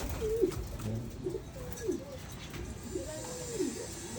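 A pet pigeon named Darna, out for free flight, gives a run of soft rising-and-falling coos, repeated about four times in an even rhythm close by, with a faint outdoor background.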